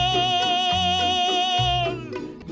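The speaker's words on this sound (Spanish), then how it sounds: "como en este corrido de Chihuahua, que es una composición de 1903 que suena así" A recorded 1903 corrido de Chihuahua about sotol, with a sustained melodic line over rhythmic lower notes, played steadily at moderate volume with no talking.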